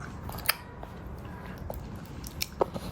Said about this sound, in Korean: 고구마 까줬는데 잘 먹네요 쩝쩝쩝